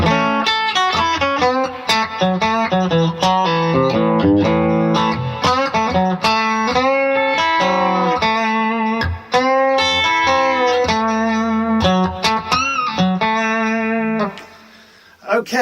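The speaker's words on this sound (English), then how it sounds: "And with the reverb on that." Electric guitar played through a BluGuitar AMP1 amplifier set to low gain with reverb on, with a flowing run of sustained, ringing notes and chords that carry steadily throughout before dropping away briefly near the end.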